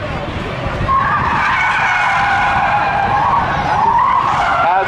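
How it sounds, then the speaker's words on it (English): A drag car doing a burnout on the back straightaway of a speedway at a spectator drag race, giving a loud, sustained tire squeal with wavering pitch. "As the quietest burnout in the history of burnouts ensues on the back straightaway."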